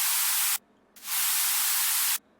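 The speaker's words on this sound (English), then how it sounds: "And below that I use a white noise layer" Loud, bright white noise hisses in two sustained bursts separated by a short silent gap, steady and flat with abrupt starts and stops, used as a music production layer.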